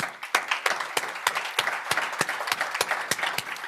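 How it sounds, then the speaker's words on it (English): Conference attendees at a California tire industry gathering applaud, with sharp, close individual claps in a steady rhythm over a busy bed of clapping from the wider room. "And I just want to give you guys a big round of applause."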